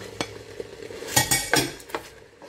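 Pork pieces dropped into a pan of simmering cream coconut milk for green curry, giving a few soft splashes and clinks of a spoon, then a brief burst of stirring and scraping, close and moderately quiet, with no talking.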